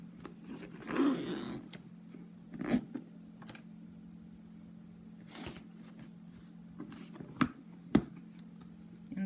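Metal zipper on a vintage Louis Vuitton Trousse 28 pouch handled in a few short rustling bursts with scrapes and small clicks, close and fairly quiet against a steady low hum.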